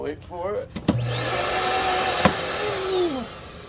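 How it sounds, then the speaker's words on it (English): A central vacuum in a Montana 3121RL RV switches on with a thump and a rising whine, runs steadily, then shuts off with a falling whine, after brief talk at the start. "So you've got the vacuum on the top, and then wait for it."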